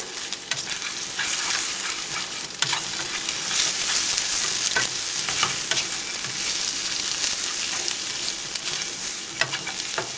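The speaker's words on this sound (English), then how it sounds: "Kind of wait for the pan to get a little bit hot so the eggs can cook." Eggs sizzling and being stirred in a hot pan for a simple breakfast burrito, a steady close frying hiss broken by scraping stir strokes, with no talking.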